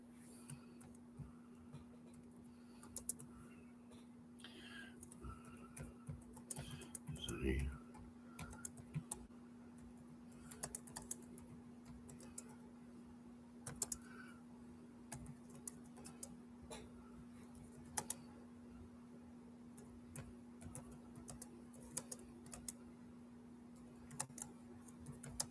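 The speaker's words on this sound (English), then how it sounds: "I'm going to type something here for Pragati." Light typing on a computer keyboard as a message is entered, scattered soft key clicks with irregular pauses over a steady background hum, quiet and close, with no voices.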